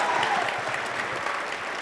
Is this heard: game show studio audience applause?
yes